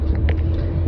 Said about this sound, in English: As you can see, I'm in my car driving to the place.